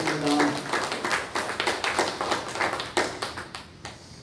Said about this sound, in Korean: 우리 하나님께 감사의 박수 올려드리겠습니다.